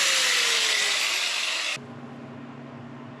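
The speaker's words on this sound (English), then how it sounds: "I cut off the excess bolt with my angle grinder." Angle grinder cutting off an excess bolt on a DIY teardrop camper trailer, a loud steady high-pitched grind for under two seconds that stops abruptly, leaving a quieter low hum.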